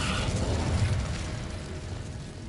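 An Incendio fire spell cast in Hogwarts Legacy, a rushing, crackling burst of flame that swells loudly and then holds as a steady roar for a couple of seconds.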